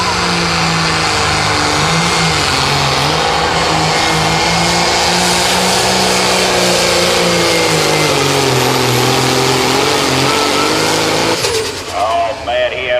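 A John Deere 7800 tractor in the 8,500-pound limited pro stock pulling class roars at full throttle, loud and sustained with a slowly shifting engine pitch, then cuts off near the end.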